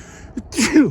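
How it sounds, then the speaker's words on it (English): A single sneeze bursts out during an outdoor walk in Regina, starting with a short intake of breath and ending in a sharp, loud, close release. "I think I might sneeze."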